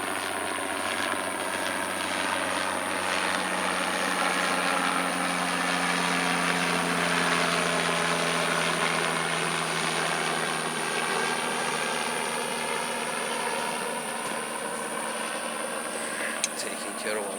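A helicopter drones steadily overhead with a constant engine whine and rotor hum, holding a near, unbroken level for the whole stretch.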